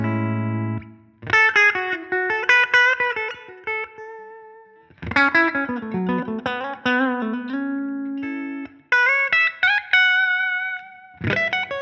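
Electric guitar through a Line 6 Helix US Deluxe amp model with reverb added, clean plucked chords and single notes ringing out in phrases with short pauses, tails lingering into the gaps, no voice.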